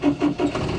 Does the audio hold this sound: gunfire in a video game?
no